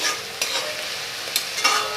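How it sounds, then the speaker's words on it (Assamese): Onions sizzle steadily in a hot pan while a utensil stirs and scrapes through them in a few quick strokes. "যিহেতু অলপ সময় ভাজিব লাগিব পিঁয়াজখিনি"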